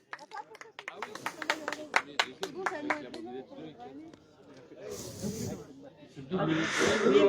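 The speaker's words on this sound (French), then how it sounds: "Bravo, on peut les applaudir." A crowd claps for prize winners at an outdoor rally of vintage mopeds and old two-wheelers. The claps are scattered and sharp for a few seconds, then give way to voices and a hissy outdoor wash.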